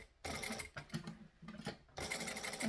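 A sewing machine stitches a tote bag, running in close, loud rapid bursts separated by brief pauses, with a longer steady run at the end.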